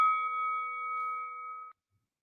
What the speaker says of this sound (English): So when you guys hear that bell,